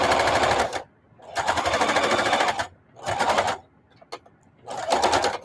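Sewing machine stitching scraps of old denim jeans together, running in four loud rapid bursts of fast rattling stitches separated by short pauses.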